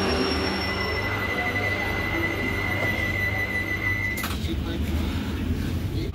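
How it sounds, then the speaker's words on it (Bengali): Wheels of a Vande Bharat Express screech with a steady high-pitched squeal as the train pulls out of Kharagpur Junction, heard from inside over a low rumbling rolling noise, with a sharp clunk near the end. "ট্রেন কিন্তু আমাদের খড়গপুর জংশন ছেড়ে বেরিয়ে যাচ্ছে"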